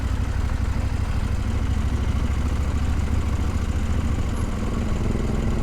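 A KTM 790 Adventure R motorcycle engine running at low throttle around 1500 rpm, a steady, dense, low rumble that holds even and close throughout.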